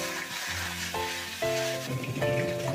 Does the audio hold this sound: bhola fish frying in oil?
yes